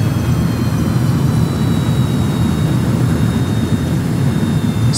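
Rocket engines and strapped-on boosters roar steadily during a space shuttle liftoff in Kerbal Space Program, a loud continuous low rumble that holds unchanged throughout.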